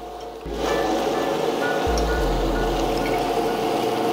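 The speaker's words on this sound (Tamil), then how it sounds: "கொஞ்சம் தண்ணி ஊற்றிட்டு அரிசியை போட்டுக்கிட்டே இருக்க வேண்டியது தான்" Water gushes steadily into a running wet grinder grinding rice for appam batter, a continuous splashing pour over the low motor hum, close and fairly loud.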